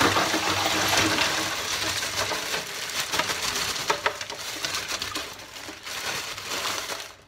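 Water runs and splashes steadily while ice is crushed and rattled to make an ice bath for cooling homebrew wort of a New England IPA, with crunching and crinkling bursts over the churning flow; no talk.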